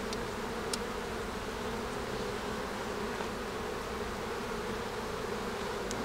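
A honeybee swarm colony buzzing around an open hive during a frame transfer, a steady close drone of many wings with a few brief louder passes from single bees.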